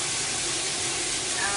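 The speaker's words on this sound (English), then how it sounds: "a little, really powerful little jet through the water. And it does make a wide spray." Water sprays steadily from an Ohuhu 6.25-inch jumbo rain shower head, a loud, even hiss with no pauses.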